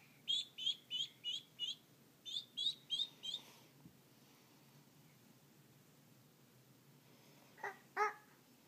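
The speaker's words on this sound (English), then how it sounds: "Duckling." Duckling peeps from a children's iPad farm app: a quick series of about ten small high chirps in two bursts, followed by a brief faint pause and a couple of louder calls near the end, all with no talking.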